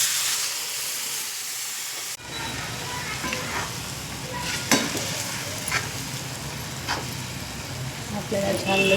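Sprouted mung beans drop into hot spiced oil in a pan and sizzle loudly, with a steady hiss broken by scrapes of stirring and someone speaking over it.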